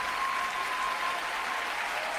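Steady audience applause at a live political comedy show parodying the State of the Union, a dense continuous wash of clapping with no gaps, fairly loud throughout.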